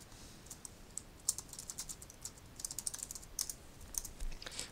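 Computer keyboard being typed on while playing King's Quest 2 on PC, a quiet, irregular string of light clicking keystrokes, some in quick flurries, with no talking over them.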